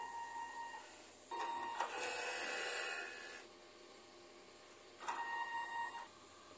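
A DTF printer running a print head cleaning cycle whirs and hisses in bursts, a carriage motor running twice with a quiet pause between, close and mechanical.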